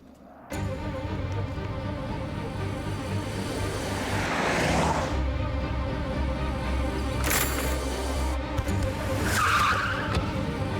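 A car arrives with tires skidding and squealing, a loud, sustained roar of engine and rubber on the road that surges in waves, with sharp screeches standing out near the middle and the end.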